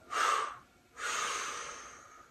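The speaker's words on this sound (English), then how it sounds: "Nice big inhale. We exhale." A person doing a yoga pose breathes deeply, giving a short breath then a longer, drawn-out exhale that tails off, close and soft with no talking.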